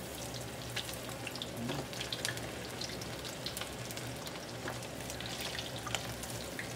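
Chicken sizzling in hot oil during a second fry for kickin' wings, a steady dense crackle and bubbling hiss with scattered sharper pops, continuous and close throughout.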